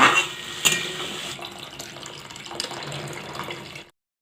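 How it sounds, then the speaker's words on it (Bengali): Water poured into a pan of simmering rohu fish curry, a steady close splashing gush that trails off and stops abruptly near the end. "জলটা ঢেলে দেবো।"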